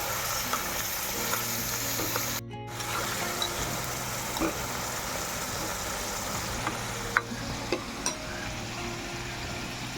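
Stuffed brinjals for a gutti vankaya curry go into a hot pan, a steady oil sizzle running throughout, with a few soft clinks and taps from the pan.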